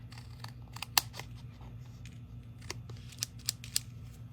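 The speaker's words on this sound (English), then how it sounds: "trim this down" Scissors trimming paper for a handmade card, several crisp close snips scattered irregularly over a low steady hum, no talking.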